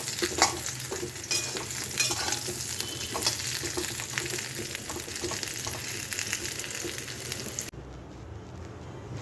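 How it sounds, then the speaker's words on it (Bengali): Mango pieces fry lightly with tempering spices in a pan for a sweet mango pickle, giving a steady close sizzle with brisk stirring scrapes that stop abruptly, leaving quieter room sound. "আমগুলো একটু ফোড়ন দিয়ে হালকা ভেজে নিলাম"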